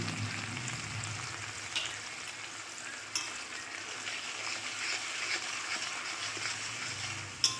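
Pumpkin sautéing in a pan with salt, turmeric, green chilli, poppy seed and mustard paste, a continuous gentle sizzle with a few light utensil taps, no voices.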